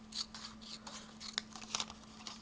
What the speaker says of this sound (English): I may not be cutting it perfect, but I'm trying really hard to not leave any black around the image